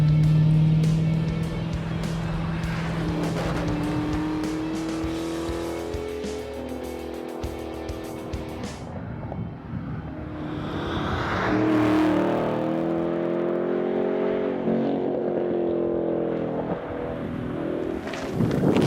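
A Dodge Challenger Hellcat muscle car on the road, its engine droning and rising in pitch as it accelerates, with the growl swelling and easing over about twenty seconds.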